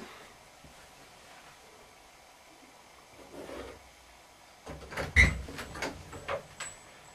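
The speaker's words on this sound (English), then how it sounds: "Do you not like me opening that closet door?" A closet door is opened in a quiet room: a soft rumbling slide, then a louder cluster of scraping, knocking movement near the end.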